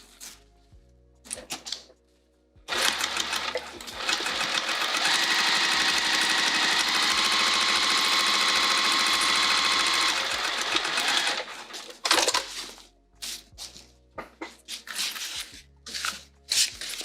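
A sewing machine stitching a vinyl bag runs in one long steady whirring burst of about eight seconds, close and loud, framed by shorter starts, stops and handling clicks.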